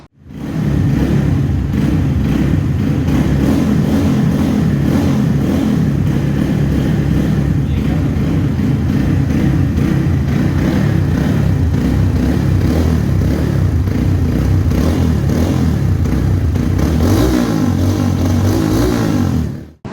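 A Zxmco 200 motorcycle engine runs loud and close for the whole stretch, a steady rumbling idle with rising and falling revs, briefly swelling near the end before cutting off.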